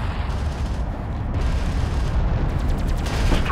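Battle cruiser guns firing in Homeworld: Deserts of Kharak, a continuous heavy barrage of deep booming artillery blasts blending into a loud rumbling wash, with rapid repeated impacts toward the end.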